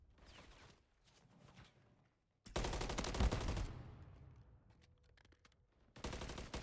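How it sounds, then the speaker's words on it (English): Bursts of automatic gunfire in a competitive esports shooter match, loud volleys coming in sharp blocks with quieter scattered shots between them and no voices. "shots everywhere as he tries to find out the location of the person shooting him"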